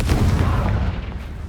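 Confringo fire spell blast in the Hogwarts Legacy video game, a loud, dense booming burst with a rumbling tail that fades within about a second and a half, heard alone.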